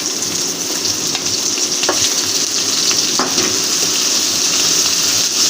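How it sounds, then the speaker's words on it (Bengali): Onions and chilies fry steadily in fish oil with roe, a dense continuous sizzle with a few brief clinks of stirring, close and loud, with no talking. "পেঁয়াজ মরিচের সঙ্গে সুন্দরভাবে তেলটা মাছের তেলটা ভাজা হয়ে যাবে"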